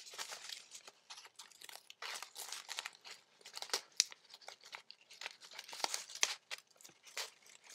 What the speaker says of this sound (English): Let's see if the scissors will cut.